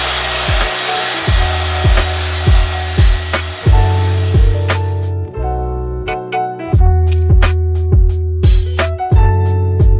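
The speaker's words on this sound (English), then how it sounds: "It's a great blow dryer and I get the job done" A handheld blow dryer running during a silk press on natural hair, a loud steady whirring rush with a rhythmic series of brief dips and clicks as the airflow is interrupted and resumes.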